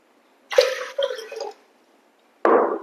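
Water is poured into whole moong and chana lentils in two splashing bursts, the first longer and broken into pulses, then a pause before a second short pour.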